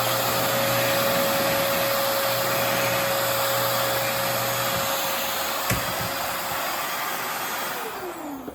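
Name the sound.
vacuum cleaner creating a vacuum inside a bin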